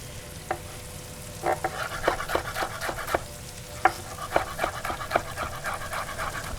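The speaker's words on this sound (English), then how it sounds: "I have some jalapeno. Give this a little bit of a" A knife chops jalapeno on a cutting board in a kitchen, giving irregular sharp taps in short bursts over a background sizzle of food frying in a pan.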